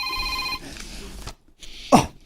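A telephone ringing in a short, bright electronic trill that cuts off after about half a second, followed by a brief pause and a dull knock.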